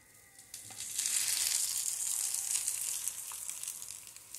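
A tuna snack sizzles in a skillet just after being turned, the frying hiss swelling up within a second and then holding steady and close, with no talk.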